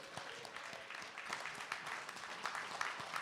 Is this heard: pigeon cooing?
no